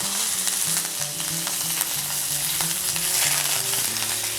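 Mustard seeds, cumin, a dried red chili, asafoetida and curry leaves sizzle loudly and steadily in hot oil for a tempering, a dense close crackle with no talk.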